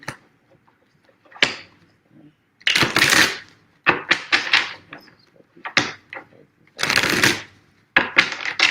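Tarot cards are shuffled by hand in several short, brisk riffling bursts, close and crisp, separated by brief pauses, with a person speaking quietly in between.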